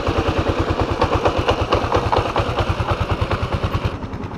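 A motorcycle engine idles steadily close by, its rapid regular pulsing thumps continuous throughout with a faint rattle on top.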